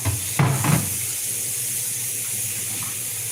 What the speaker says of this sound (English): let me get my pan soaking